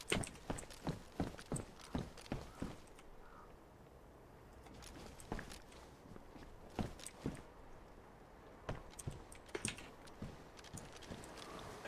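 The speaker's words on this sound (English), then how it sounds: "I keep thinking I can hear footsteps," Footsteps in the survival video game DayZ thud in quick, irregular runs of sharp steps, pausing briefly before resuming, close and fairly faint, with no talk over them.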